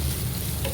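Slit green chili and curry leaves sauté in a hot pan, giving a brief, close, steady sizzle and crackle with no voices.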